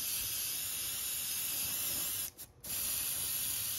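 An airbrush from a budget starter kit lays down a heavy wet coat of paint with a loud, steady, close hiss of spray. It cuts out briefly near the end and then resumes.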